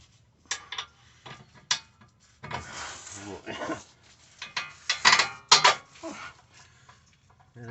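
Metal clinks and scraping as a bolt is worked through the rear upper control arm on a 2012 Lincoln MKZ, with irregular close knocks and rattles of hardware against the frame, some bursts louder than others.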